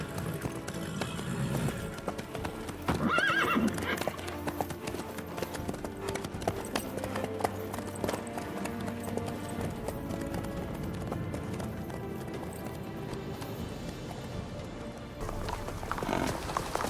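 Horse hooves clip-clop steadily in The Witcher 3, a continuous rhythmic trotting layered under ambient game sounds.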